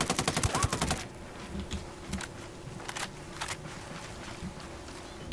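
A machine gunner fires a rapid burst in the video game Halo, loud and close at first, followed by scattered distant gunshots, an explosion and ambient noise.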